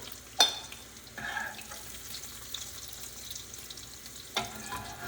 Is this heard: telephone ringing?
no